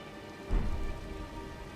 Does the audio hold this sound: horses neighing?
no